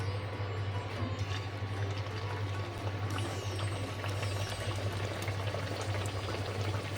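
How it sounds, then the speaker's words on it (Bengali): Urad dal kachori sizzling in hot oil at medium heat: a steady, continuous frying bubble and crackle with a low constant hum underneath, no voices. "এবার এগুলো তেলে ভেজে নেবো।"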